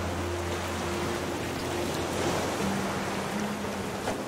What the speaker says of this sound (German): Ach, dieser hohe Wellengang